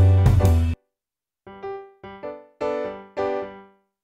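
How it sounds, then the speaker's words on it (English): A stock virtual piano instrument plays a short full chord, then after a pause a run of five separate clear notes and chords, each ringing briefly and decaying, close and alone with no talk. "So here's my piano, and it's a stock instrument"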